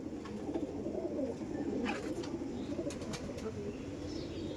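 Chatiyal pigeons coo steadily in a low, continuous murmur, with several birds overlapping close by and a few brief higher chirps and flutters mixed in.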